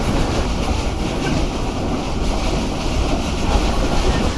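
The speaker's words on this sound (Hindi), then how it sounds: "काफ़ी अच्छी स्पीड में ट्रेन ने स्किप किया है जमशाही को।" Rehman Baba Express rushes through a station at speed, a loud, dense roar of rolling wheels and rattling carriages with steady clickety-clack, sustained and close throughout.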